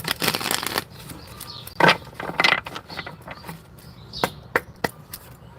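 Tarot cards being shuffled and riffled in quick bursts, with soft flutters and taps between pauses, close by and fairly quiet.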